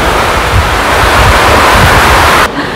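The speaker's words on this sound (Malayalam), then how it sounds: "ഭയങ്കര കാറ്റാലോ" Strong gusting wind during monsoon rain in Kerala, a loud, steady broadband rush roaring close to the microphone that drops off abruptly near the end.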